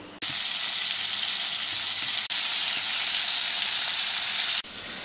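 Breaded chicken feet frying in oil give a loud, dense, continuous sizzle close by, with two brief breaks, and no talking.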